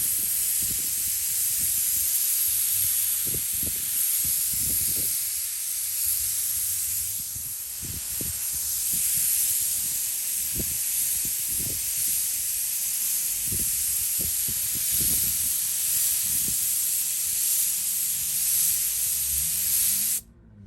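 A touch-up spray gun lays a light first coat of candy paint onto a model car, giving a steady, close, continuous hiss with soft low knocks underneath that cuts off abruptly at the end.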